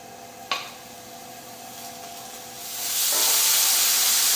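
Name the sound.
bacon sizzling in a pan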